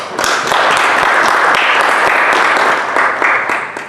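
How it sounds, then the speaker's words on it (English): At an Indian brand convention and awards event, a hall audience claps for two speakers, producing a full, sustained round of applause with a few louder individual claps standing out. "I would like all of you to clap for both of them."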